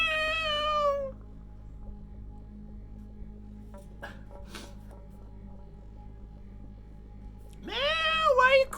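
A cat named Butters meows in two drawn-out, wavering cries, one at the very start and another near the end, with a near-silent stretch in between.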